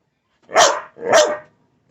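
A dog barks twice in quick succession, close and fairly loud, each bark full and resonant with a short pause between, no other sound around it.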